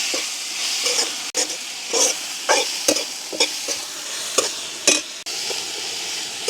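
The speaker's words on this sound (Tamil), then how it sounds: "இப்போ நாங்கள் கழுவி வச்சிருக்கிற சுண்டங்கத்திரிக்காயை சேர்ப்போம் சுண்டங்கத்திரிக்காய் எங்களுக்கு நல்லா வதங்க வேணும்" Turkey berries (sundakkai) frying in a pan in a village kitchen, a bright steady sizzle broken by rhythmic spoon stirs and scrapes, heard up close with no speech.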